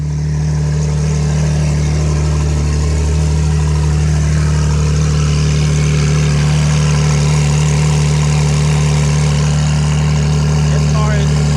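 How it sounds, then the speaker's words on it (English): Loud Jetta wagon engine idling at O-Town Customs, a steady deep rumble with strong low hum, continuous and close, with faint voices underneath. "This car is so loud."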